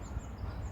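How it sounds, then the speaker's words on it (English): Chickens clucking faintly at a distance in a garden, a short, quiet stretch of low fowl chatter against outdoor background. "Chickens are making a lot of noise."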